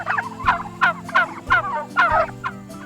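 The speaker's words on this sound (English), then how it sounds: "Behind me are just a few of the 125 organic turkeys raised this year on the Oyler's Organic Farm" Several organic farm turkeys gobble in a loose, repeating series of bursty calls, close and fairly loud, with low background hum beneath and no talking.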